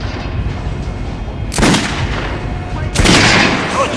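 Two loud, booming rifle shots fired at a regular training dummy in the shooter game Metro: Last Light Redux, spaced about a second and a half apart over a steady background rumble.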